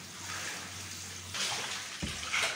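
Water splashing and sloshing as clothes are washed by hand, with soft trickles and louder splashes toward the end, close by with no talking.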